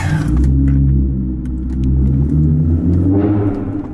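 A car engine rumbles and revs in a deep, loud growl that swells and eases, rising again near the end, heard close up.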